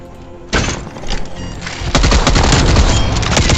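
A sentry gun turret in Call of Duty: Black Ops Cold War opens fire after a brief quiet moment, then builds into a loud, sustained barrage of rapid automatic shots and thuds.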